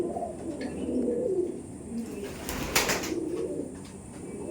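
Imported Giribaj pigeons coo in low, rolling murmurs nearby, with a brief flutter or burst of noise in the middle and a steady background hum throughout.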